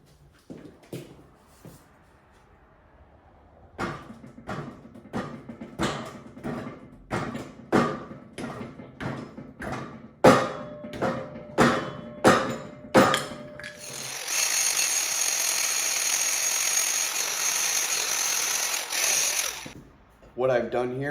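A hammer strikes a molded steel gas tank for a long chopper in a workshop: a dozen sharp metallic blows in an uneven rhythm, followed by a long steady whirring power tool.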